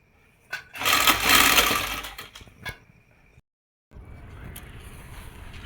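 Sewing machine stitching gota lace onto a suit, loud bursts of rapid whirring stitching that stop abruptly, followed by quieter handling noise after a short silence.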